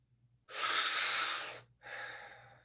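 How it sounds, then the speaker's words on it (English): Two deep, airy breaths taken during a group breathing exercise: a long forceful inhale-like rush followed by a shorter second breath, close and clear, with no talking. "5 more breaths as a group."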